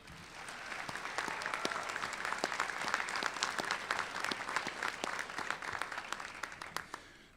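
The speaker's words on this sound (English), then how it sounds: "How about a round of applause in support of them?" Sustained audience applause at an undergraduate commencement ceremony, many hands clapping in a dense, even patter with a few sharper claps standing out, fading off at the end.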